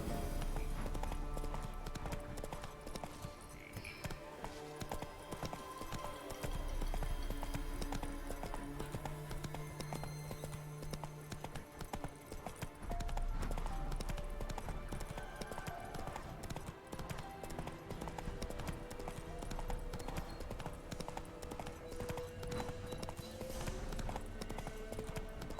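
Roach, a horse in The Witcher 3 video game, gallops with continuous rhythmic hoofbeats under background music, fairly quiet overall.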